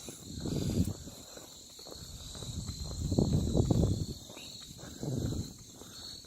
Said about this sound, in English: Just feel like it should be nighttime with all these crickets.